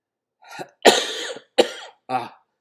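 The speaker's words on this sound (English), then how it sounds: "I had been suppressing this cough as much as I could for the past hour" A few harsh coughs in quick succession, close and loud, separated by brief silences.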